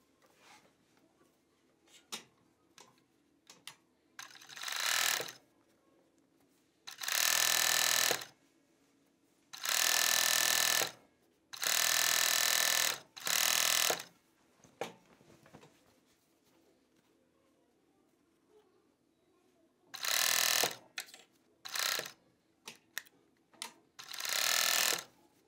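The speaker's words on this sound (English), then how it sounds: "we'll start serging all the way from the hem of the sleeve through the underarm" A 4-thread Jack overlock serger stitches a sweatshirt sleeve seam from the hem through the underarm, running in several loud buzzing bursts of a few seconds each, separated by quiet pauses with small clicks and fabric handling.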